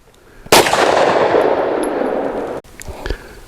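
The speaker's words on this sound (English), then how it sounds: "So there's Tia's impact." A pistol round striking IIIA soft body armor during a ballistic test, heard as one loud, sharp impact that rings into a sustained roar lasting about two seconds, followed by fainter noise.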